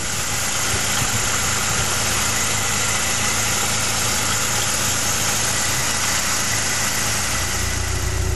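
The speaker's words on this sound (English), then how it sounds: "Let's start the car up, see if it's any better." An old car's engine, back together after repair work ahead of its MOT test, runs at a loud, steady idle with constant rumbling vibration and no voices.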